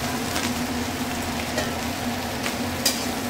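Raisins frying gently over low heat in a pan for chirer polao, a beaten-rice pilaf, give a steady soft sizzle with a faint background hum and a few light scraping stirs, close and continuous without talk.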